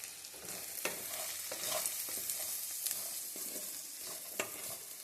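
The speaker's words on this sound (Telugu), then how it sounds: "ఇప్పుడు వీటిని బాగా కలిపేస్తున్నామండి." Ivy gourd curry is stirred with chilli powder, turmeric and coriander powder in a hot pan, a close low sizzle broken by repeated scraping spoon strokes and light clinks, with no one speaking.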